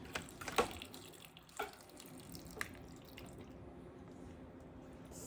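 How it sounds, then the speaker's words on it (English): Cabbage juice pours into a jar of fermented curtido, a few splashy drips and glugs followed by a soft steady trickle, close and fairly quiet. "now we're gonna pour the juice in there that it produced."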